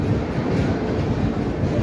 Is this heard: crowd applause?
no